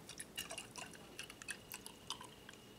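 Quiet, irregular trickles and drips of a liquid mixture splash into a glass mason jar, close and soft, with no voices.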